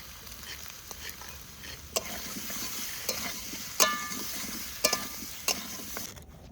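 Potato and kohlrabi frying with spices in a pan, a continuous soft sizzle broken by several sharp scrapes and knocks as the vegetables are stirred.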